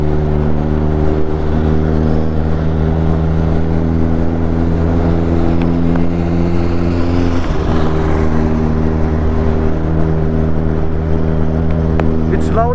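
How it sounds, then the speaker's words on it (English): A Kawasaki superbike's loud exhaust roars steadily while it is being ridden on the road. The pitch shifts briefly midway, with rushing wind noise throughout. "the exhaust is damn loud"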